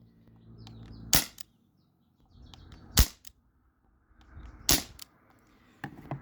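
Modified Umarex Brodax BB revolver firing on a 12 gram CO2 cartridge: four sharp, loud pops spaced about two seconds apart, each followed by a faint rattle of the mechanism, in a quiet outdoor setting.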